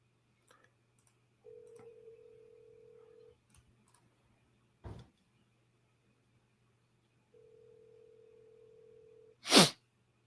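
Outgoing phone call ringback, two long steady rings separated by silence over a faint hum, with a short click between and a sharp loud burst at the end.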